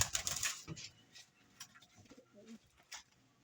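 Soft pigeon cooing, faint and a little distant, with light rustling and a brief noisy burst at the start.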